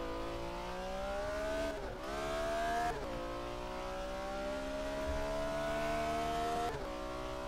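Race car engine in the racing video game Race 07, driven on keyboard, revving steadily with rising pitch, broken by abrupt gear shifts around two, three and near seven seconds, loud and continuous with no talk.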